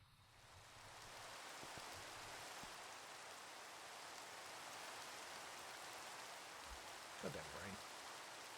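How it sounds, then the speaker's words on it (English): Steady rain falls continuously in a modded Minecraft world, an even hiss throughout with a brief low thump near the end. "Wish the rain would stop."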